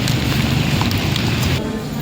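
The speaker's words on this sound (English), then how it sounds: "The rain is bigger." Heavy rain pours steadily in Quebec City, a loud, dense wash of drops on surfaces and pavement, close and continuous, with a brief shift in tone near the end.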